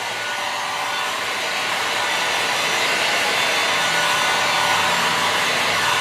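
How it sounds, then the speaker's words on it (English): A heat gun blows hot air steadily onto window tint film on an SUV's back window, a loud, close, continuous whoosh with no talk. "If you're not moving the heat gun, then you'll burn through your tint."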